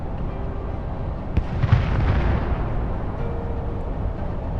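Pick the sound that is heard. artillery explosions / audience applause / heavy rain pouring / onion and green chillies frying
artillery explosions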